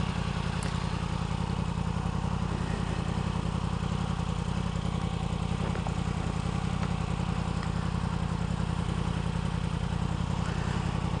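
A 2016 Yamaha R1 motorcycle being ridden, its engine a steady, continuous drone with constant loudness throughout, heard alone with no voices.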